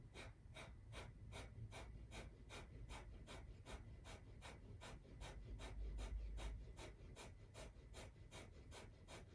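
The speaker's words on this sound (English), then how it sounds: "This is a good place to include Kapalabhati breathing." Rapid Kapalabhati breathing during a yoga flow, forceful rhythmic nasal exhalations pulsing evenly about twice per second, soft and close with no talk.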